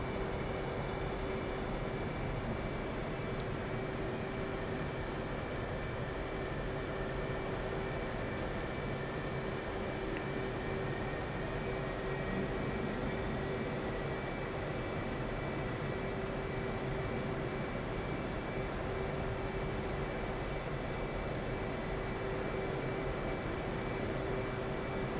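F-18 fighter jets at Nellis air base rumble with a constant, loud engine roar and a steady high whine, holding an even drone for the whole stretch with no voices.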